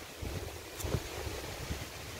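Wind blows steadily over open water with a continuous, even rush and soft low gusts, and no voices are heard.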